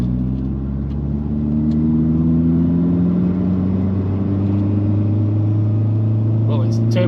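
A Vauxhall Zafira GSI with a turbo engine rumbles steadily at a low, even idle, close by and constant throughout, with a few faint sounds near the end.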